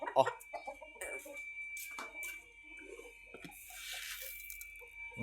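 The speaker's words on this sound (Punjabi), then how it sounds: "ਇੱਕ ਹੈ ਇਹ ਕੁਕੜੀ ਬੈਠੀ ਦੀ" A hen clucks in short, repeated bursts close by, alongside other farmyard chicken sounds, with a person talking quietly in between.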